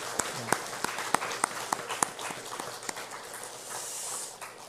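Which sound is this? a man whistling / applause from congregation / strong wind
applause from congregation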